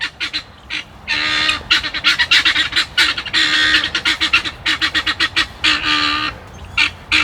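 A flock of guinea fowl calls loudly and close by outdoors, with harsh, rapid, repeated honking cries coming in bursts for several seconds without a break.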